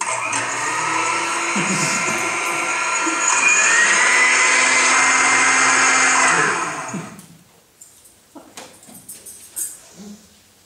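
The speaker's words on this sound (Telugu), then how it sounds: "వీటన్నిటిని మిక్సీలో వేసేసి ఒకసారి ఇచ్చేసేస్తే ఉగాది పచ్చడి రెడీ" A mixer grinder blends Ugadi pachadi ingredients in a loud, steady whir for about seven seconds, then cuts off, leaving faint clicks and handling sounds.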